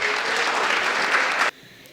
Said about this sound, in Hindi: एक बार तालियों से मुझे आदेशित कीजिएगा